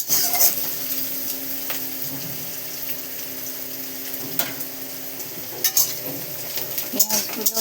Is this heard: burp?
no